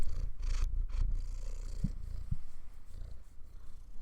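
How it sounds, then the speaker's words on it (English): A cat purrs close by in a low, steady rumble with a rhythmic pulse. No voices are heard. "Can you hear him purring?"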